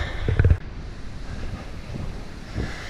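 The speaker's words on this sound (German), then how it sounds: "Die Fahrt war jetzt kennzeichnet durch den starken Wind." Strong wind buffets the microphone on a journey from Venice toward Dubrovnik, a continuous rumbling roar with a heavier thump at the very start.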